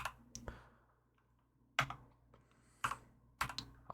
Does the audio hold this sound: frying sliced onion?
no